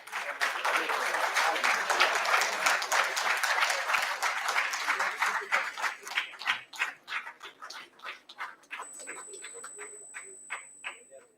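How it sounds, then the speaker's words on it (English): Conference audience clapping at a media event, a full dense round of applause that thins out into fewer, separate rhythmic claps trailing off toward the end, with a faint high tone appearing late. "I hope you are not too tired to clap."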